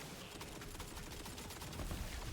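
Rapid, steady gunfire from a weapon in the looter-shooter video game Tiny Tina's Wonderlands, a dense continuous burst of shots with no pauses, slightly louder toward the end.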